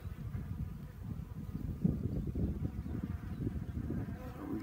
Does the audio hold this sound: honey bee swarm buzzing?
yes